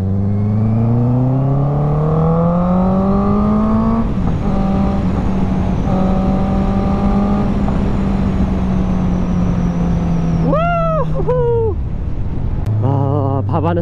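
A new superbike carries its rider down an empty road, its engine a loud, steady droning hum that rises and falls with throttle changes, followed near the end by a few quick revving swells and a short drop.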